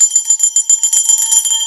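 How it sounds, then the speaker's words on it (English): A bell rings on its own, loud and bright with a sustained high tone and quick repeated strikes that shimmer continuously for under two seconds, with no voices over it. "can y'all hear the bell today?"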